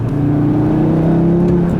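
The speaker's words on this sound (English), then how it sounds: "I love those little burps on the upshift you get with these two" A 2018 Audi RS3 engine revs up close and loud, its droning note climbing steadily in pitch through a brief burst of acceleration.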